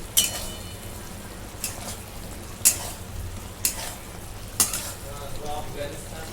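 Fried Manchurian balls get stirred into simmering gravy in a pan, a steady low bubbling sizzle punctuated by four sharp spoon scrapes against the pan at spaced intervals.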